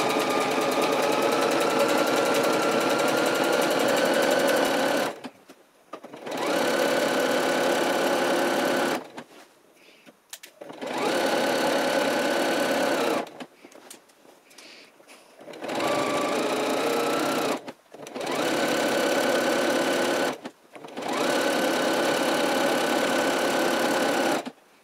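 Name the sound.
sewing machine sewing a stretch-stitch seam on trousers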